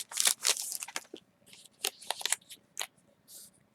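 Acrylic stamps being snipped apart with scissors, a string of close, crisp cuts and crunches in quick bursts early on, then a few sparser snips with short pauses between.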